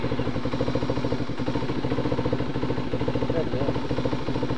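Dirt bikes, a Kawasaki KLX and a Beta Xtrainer, riding through Orlestone Forest, their engines chugging in a steady rapid pulse throughout, close and fairly loud, with voices mixed in.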